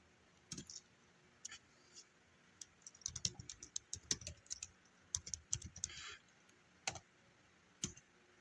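A computer keyboard clicks with irregular bursts of keystrokes as code is typed, close and fairly quiet, with short pauses between runs.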